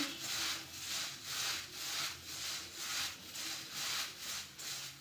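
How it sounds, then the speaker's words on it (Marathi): Dry puffed rice for kaccha chivda is tossed and mixed by hand in a bowl, a close rhythmic rustling and scraping that swells and fades in regular strokes, with no talking. "मुरमुरे टाकून घेऊया ये मिक्स करून घेऊ आपण बरोबर"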